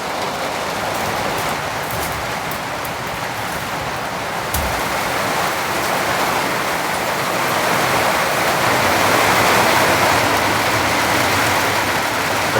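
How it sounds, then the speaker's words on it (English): Heavy, torrential rain pours steadily outside a remote cabin, a dense, unbroken hiss that swells slightly toward the end, with no voices. "You just hear that rain"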